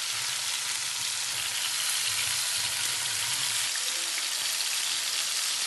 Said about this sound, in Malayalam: നമ്മുടെ മീനിൻ്റെ ഒരു സൈഡ് നന്നായിട്ട് ഫ്രൈ ആയിട്ടുണ്ട്